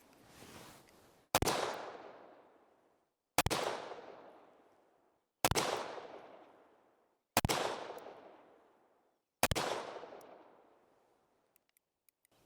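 Five loud, sharp .44 Magnum handgun shots firing Hornady 240-grain XTP bullets into ballistic gel, evenly spaced about two seconds apart, each with a long decaying outdoor echo and no voices.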